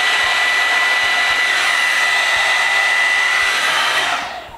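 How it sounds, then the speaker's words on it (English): An Amika blow dryer brush runs on curly hair with a loud, steady whooshing roar of airflow that holds constant for several seconds, then winds down as it switches off. "I like that it's a little more quiet than a blow dryer"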